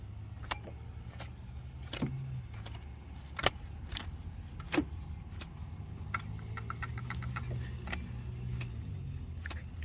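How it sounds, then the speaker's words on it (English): Drive pulleys on a 1988 Buick LeSabre 3800 V6 spun by hand with the belt removed, giving faint intermittent ticks and light clicks over a low steady engine-bay hum, with no clunking. "so now I can spin each pulley by hand"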